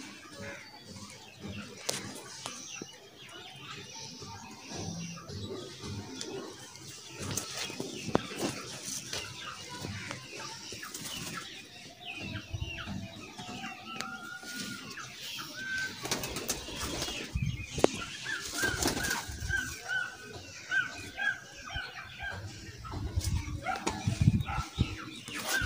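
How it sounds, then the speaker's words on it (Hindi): Kasuri pigeons nearby, with scattered bursts of wing flapping and soft low cooing amid shuffling, clattering loft noise, fairly faint overall with no clear talk. "ए कसूरी कबूतर"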